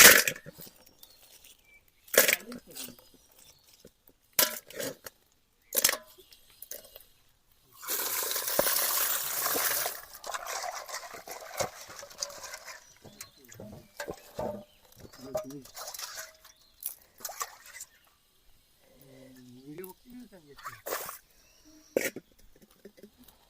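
Freshwater village crabs caught in the first rain are rinsed in water, with a sustained burst of splashing and sloshing followed by scattered clicks and small knocks, and people talk intermittently.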